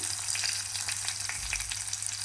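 Ginger and garlic fry in hot oil with fennel and fenugreek powder for a fish head curry, giving a continuous close crackling sizzle with a few light pops.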